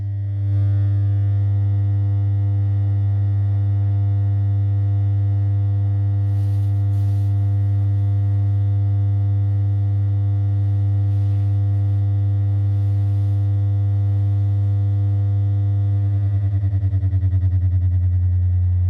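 Pulse Burst 2 SP408 speaker playing a 100 Hz bass test tone, a loud, steady, pure low hum held for the whole stretch with faint buzzing distortion and slight wavering near the end, no speech.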